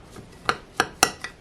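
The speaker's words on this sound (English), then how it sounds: "I'm just supposed to mix that together until the graham crackers are all moist" A spoon mixes graham cracker crumbs and melted butter in a bowl, making four crisp clinks against the bowl at an uneven pace, close by over a quiet background.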